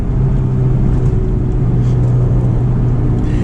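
Inside a 2004 Honda S2000 on the road, a steady engine drone with tyre and road rumble runs continuously at an even level, with no talk over it.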